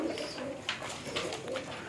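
Pigeons in a loft coo softly and continuously, a close murmuring with faint sharp ticks scattered through it.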